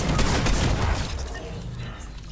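Gunfire in the Fortnite video game: a loud burst of rapid shots at the start fades into a softer rumbling tail.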